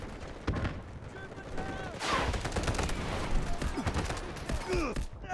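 In a video game, an artillery barrage crashes in among heavy gunfire, with rattling bursts, dull explosions and whistling tones layered densely and loudly throughout, while voices speak over the battle.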